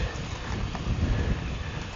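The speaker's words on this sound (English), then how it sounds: "Ooh, it's windy." Wind buffets the microphone of someone riding a 24-inch BMX race bike used as a commuter, a steady low rumbling roar that stays loud and constant throughout, with no voices.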